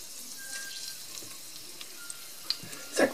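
Jackfruit hitting hot oil in a Ballarini ceramic pan, giving a soft, even sizzle with scattered small pops and a louder clatter at the very end, fairly quiet and close.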